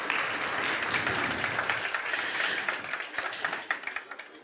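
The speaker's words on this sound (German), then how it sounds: "Einen Applaus" Audience applause for a guest called onto the stage at a science talk, a dense steady patter of clapping from a crowd that thins and tapers toward the end.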